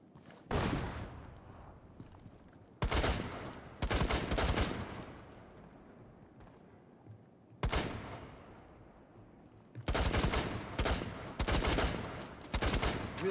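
Covering gunfire in a video game comes in several loud bursts of rapid automatic shots separated by short quiet gaps, with no talking.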